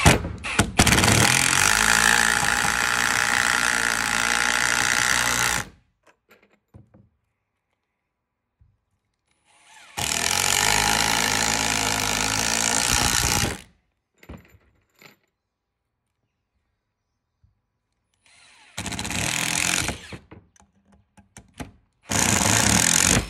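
An impact drill drives drill bits in loud, sustained bursts of rattling hammering, four separate runs with silent pauses between them and no voices.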